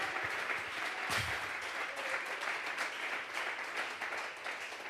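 A church congregation at a Sunday service applauding, a sustained crowd clapping that fills the room at steady volume throughout, with faint voices beneath.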